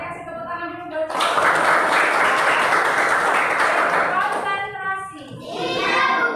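A classroom of children applauds for a few seconds during a Quran recitation lesson, a loud burst of mixed clapping that fades as a teacher's voice and children's chatter return.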